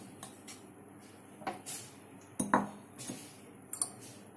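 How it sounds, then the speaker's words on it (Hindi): Raw mango pieces go into a pot of slightly warm oil for pickle, with scattered light metallic clinks and clatters of a spoon and pieces against the vessel, close and fairly quiet. "अब हम इसमें ये कैरी डाल देंगे"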